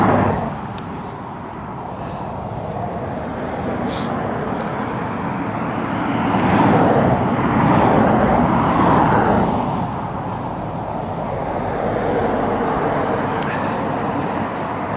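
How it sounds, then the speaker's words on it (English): Steady road traffic noise on a path near Bangour Village Hospital towards Edinburgh, a continuous mid-distance roar of passing cars that swells and eases over the whole stretch, with no talk. "So we're back to noisy traffic again."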